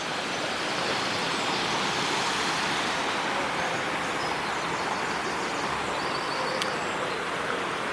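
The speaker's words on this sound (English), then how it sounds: "There's that river." A river in Malmesbury flows steadily and close by, a broad constant rush of water with no breaks or voices throughout.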